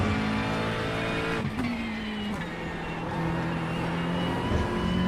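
A GT3 race car engine holds a loud, steady high-revving drone at full throttle around Monza in iRacing, with a brief dip in pitch as a gear shifts before it climbs back up.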